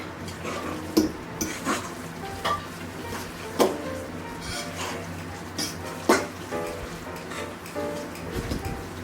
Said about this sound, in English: what I end up doing is I just start generally mixing, and then after a while I start going to the bottom and pulling up